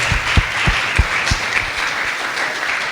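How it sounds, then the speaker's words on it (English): Audience applause at a national financial awareness and literacy conference, a dense, steady clapping that fills the hall for several seconds with a few sharper claps standing out near the start. "If you agree with me, clap for yourselves."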